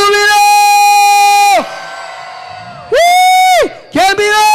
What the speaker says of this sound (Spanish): fuerte el grito de júbilo.